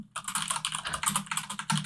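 Rapid typing on a computer keyboard, a close, steady patter of key clicks with a brief pause near the start and no talking.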